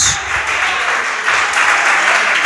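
A church congregation at a Sunday Bible school worship service gives a round of applause, a thick, continuous roar of clapping that stays loud and even across the moment with a slight dip midway.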